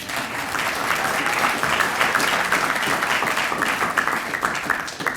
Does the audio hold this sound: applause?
yes